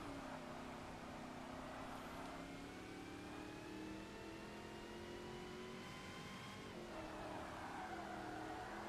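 Race cars in Forza Motorsport overtaking near the finish line, a steady engine roar with rising revs and gear shifts, the pitch climbing then dropping near the end, continuous and fairly close with no talk.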